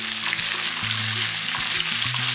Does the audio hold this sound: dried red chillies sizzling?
yes